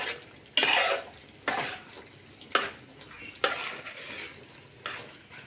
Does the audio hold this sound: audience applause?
no